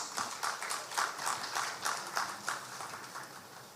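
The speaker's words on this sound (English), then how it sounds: "Please welcome him with a big round of applause" A crowd applauds as a speaker is welcomed to the stage, a moderately distant patter of clapping with a gently pulsing rhythm that carries on throughout.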